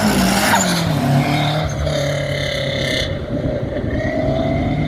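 A turbocharged four-cylinder engine in the front of a little Lancia revs and drones close by, its pitch stepping and wavering, with a rough hiss fading out near the end.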